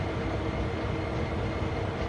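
A night train in Train Sim World 2 rumbles steadily along the line, a dense low continuous roll of wheels and motor at moderate level, with no talk.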